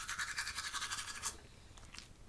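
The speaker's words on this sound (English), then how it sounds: "I am brushing my teeth with a Happy Halloween toothbrush" A toothbrush scrubs teeth in quick, rhythmic back-and-forth strokes, close and fairly quiet, then stops and leaves faint scattered sounds.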